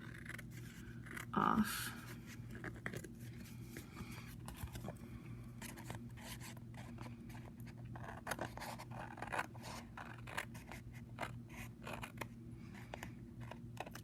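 Paper edge being trimmed for a handmade envelope book, a single brief cut near the start, then soft scratchy handling noises under a low steady background hum.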